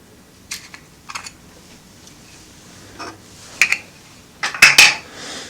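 Caps being taken off a Sony NEX-7 camera body and lens: a few light plastic clicks and taps, scattered and close, growing into a brisk cluster of sharper snaps near the end.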